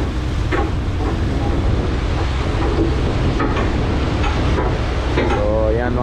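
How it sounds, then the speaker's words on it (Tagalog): Strong wind rushing and buffeting steadily outdoors over open sea from a fishing boat, a loud continuous roar with occasional gusts hitting the microphone. "Sarap ng hangin"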